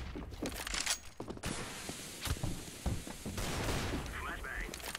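A burst of CS:GO gunfire with sharp shots and a heavier grenade blast, loud and close, with a voice briefly audible amid the combat.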